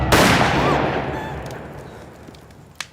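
A single sharp gunshot cracks loudly, followed by a long echoing decay that rolls away over a few seconds, with a faint click near the end.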